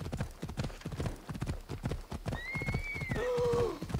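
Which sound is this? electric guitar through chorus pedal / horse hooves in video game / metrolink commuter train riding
horse hooves in video game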